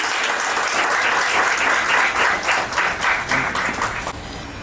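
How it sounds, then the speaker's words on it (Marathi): A crowd at an award ceremony claps loudly and steadily for about four seconds, a dense wash of many hands that thins out and fades at the end. "जोरदार टाळ्या वाजवा."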